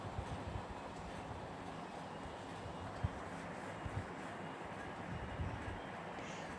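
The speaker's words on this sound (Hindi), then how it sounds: "उसी समय रेलगाड़ी दूर से आ रही थी" A railway train approaching from a distance, heard as a steady, broad rumbling roar that holds at an even level, with no speech.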